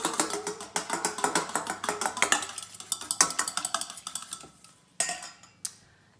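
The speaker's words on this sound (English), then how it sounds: "you need to beat the egg" Egg being beaten in a bowl for Italian-style chicken cutlets, a quick run of clattering, clicking whisk or fork strokes against the bowl that slows and thins out toward the end, with a few separate taps.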